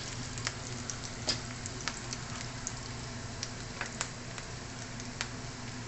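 Sardines dropped into a pan of fried onion, sizzling steadily and softly with scattered sharp spits and pops throughout.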